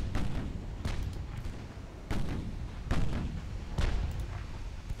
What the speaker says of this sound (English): 6-inch guns, really, I'm surprised how well they're doing, actually.